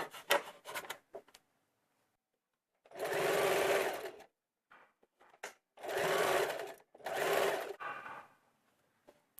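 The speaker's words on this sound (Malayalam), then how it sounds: "ഇതേപോലെ നമുക്കിത് ഫുള്ള് തയ്ച്ചെടുക്കാം" A sewing machine runs in three steady bursts of about a second each while stitching the folded edge of a churidar neck on kurti fabric backed with canvas. Short handling rustles come between the bursts, and no one speaks.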